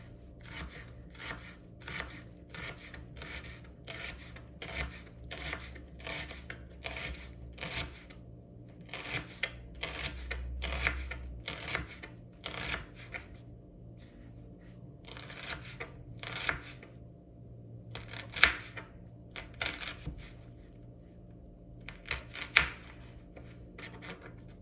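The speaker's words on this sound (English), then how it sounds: "I have 1 large onion, so about 1/4 I just slice it for the baghar. Thinly slice it." Kitchen knife thinly slicing a large onion on a board, a long series of quick crisp cuts in a steady rhythm with occasional louder taps, close and quiet with no talking.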